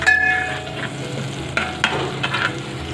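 Capsicum and carrots frying in a pan: a steady, moderate sizzle runs throughout, with several stirring scrapes and clinks against the pan in the second half, close and without speech.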